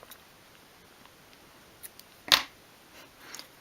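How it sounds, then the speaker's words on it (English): A single crisp snip of scissors cutting off a strand of material while making a 1/12th scale miniature vegetable storage unit, one clear close cut amid near silence with a few faint ticks. "and then you can snip that off."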